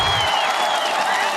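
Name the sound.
round of applause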